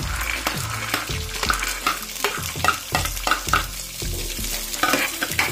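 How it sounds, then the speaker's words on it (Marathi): Fresh green pigeon peas are stir-fried in a pan, a loud sizzle broken by rhythmic scraping stirs about twice a second, close up, with no speech. "आता आपण सोले टाकणार आहोत।"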